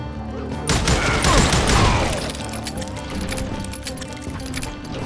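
Gunfire in the Western shooter Call of Juarez: Gunslinger, a dense burst of loud shots early on, then scattered sharper cracks and clinks trailing off.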